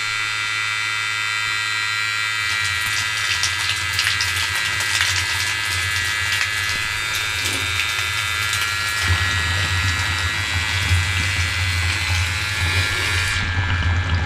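Hot water runs steadily through a closed-loop home heating setup with a heat exchanger and thin pharmacy tubing, giving a continuous close hiss and hum that swells after a few seconds and holds with no talk.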